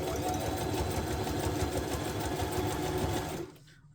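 A sewing machine runs steadily as a needle stitches through thick, strong material. A continuous close mechanical whir and rapid thumping go on for a few seconds, then stop abruptly near the end.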